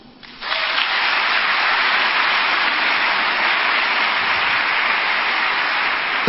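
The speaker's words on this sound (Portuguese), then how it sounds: "Pode aplaudir." A church congregation breaks into loud, sustained applause after a brief quiet start, a dense even wash of clapping that holds steady to the end.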